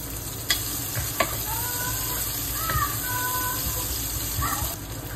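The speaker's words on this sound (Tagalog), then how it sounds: "Lagay na tayo ng mantika sa ating kaldero. Tapos gisahin na natin yung sibuyas." Onion sautés in oil in a pot, giving a steady close sizzle with occasional scraping stirs and clinks of a utensil, alone without speech.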